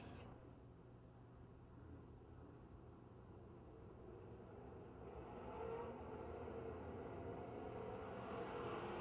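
Race cars drone around the oval at Pennsylvania Motor Speedway, a distant, faint engine roar that swells louder partway through as the field gets back underway.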